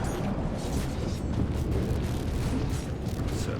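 Fire erupts from dungeon platforms in The Secret World, a steady loud roaring whoosh with low rumbling booms and no voices.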